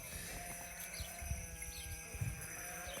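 A black sheep bleats in the Sardinian mountains of the southern Gennargentu, with a few short calls heard at moderate distance over an open outdoor background.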